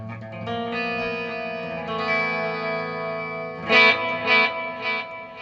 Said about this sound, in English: it's still got the overdrive on